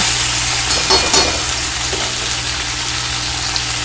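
Hot oil sizzles and crackles steadily as a rohu fish head fries in a pan, with a few brief stirring clatters near the start.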